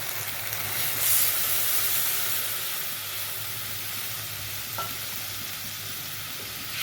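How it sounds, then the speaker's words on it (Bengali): Water poured over a sizzling fried spice masala in a pan makes a steady loud hiss and sizzle throughout, with stirring scrapes close by and no talking. "মশলা কষাই আছে, এবার দেবো পরিমাণ মতো জল।"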